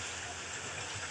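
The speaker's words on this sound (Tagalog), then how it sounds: "Ulan dito sa amin." Steady rain hisses in a dense, even wash with no breaks, soft and continuous.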